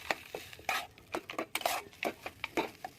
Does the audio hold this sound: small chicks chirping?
no